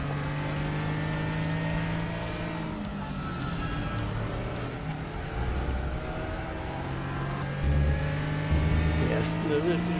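A race car engine from the Raceroom game hums and revs steadily with shifting tonal whine, moderately quiet under someone talking throughout.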